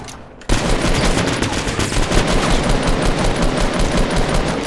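Sustained rapid gunfire in the video game Fortnite erupts suddenly after a brief quiet moment, a loud, dense burst of shots that continues without a break.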